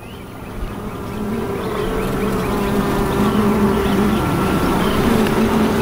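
Honeybees working an opened beehive while capping honey, a dense close buzzing swarm that swells louder after the first second and holds steady, with individual bees droning past.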